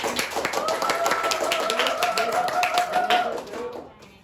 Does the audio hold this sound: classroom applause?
yes